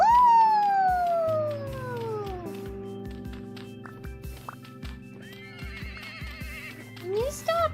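Person imitating a horse neighing, a loud drawn-out falling whinny at the start, followed by rhythmic game sounds and another brief neigh near the end.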